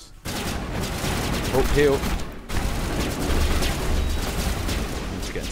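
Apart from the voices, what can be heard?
turret gunfire in Mass Effect video game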